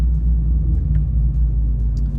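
A supercharged V8 in a Dodge RAM TRX pickup rumbles at idle, a deep steady low throb, close and loud, with no talking over it.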